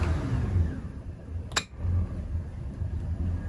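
A Maxum 2400 SC3 Cuddy boat's engine idles steadily, a low continuous rumble throughout with a brief sharp click or knock partway through.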